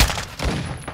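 Sniper rifle fire in a video game: two sharp, loud gunshot reports about half a second apart, each with a booming low thump over a steady wash of noisy background, no voices.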